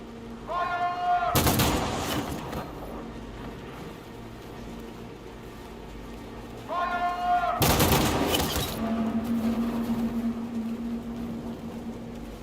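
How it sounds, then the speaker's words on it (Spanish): Gunfire volleys in the video game Detroit: Become Human: two loud, sharp bursts of massed shots several seconds apart, each with a brief crackling tail, with voices heard in between. "Me encanta como Marcus ha recibido como 3 tiros y North, Josh y Simon no le ha pasado nada."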